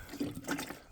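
Water poured from a container onto freshly tilled garden soil before planting, about a gallon per spot, giving a brief close splashing gush that swells and fades over about a second, with no talk.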